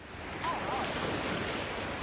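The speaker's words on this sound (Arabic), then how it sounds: "الموج حلو." Sea waves roll and wash steadily around a rowing boat or kayak far out at sea, a continuous broadband surf mixed with gusty wind buffeting the microphone, with no talking.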